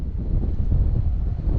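Steady wind blowing outdoors on a farm, buffeting the microphone with a continuous low rumble and no voices.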